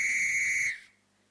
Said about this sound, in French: Siffle, fait un son avec un sifflet.